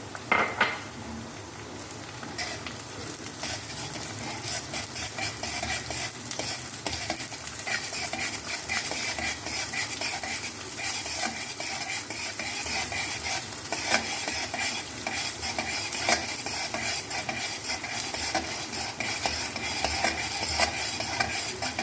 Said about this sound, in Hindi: अब हम इसमें शामिल करेंगे अपनी हरी मिर्च। हरी मिर्च को भी इसी तरह हम सॉटे करेंगे।